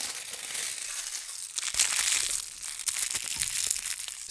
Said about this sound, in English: So let's take out the cellophane.